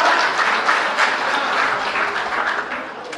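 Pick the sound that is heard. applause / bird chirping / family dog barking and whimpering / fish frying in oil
applause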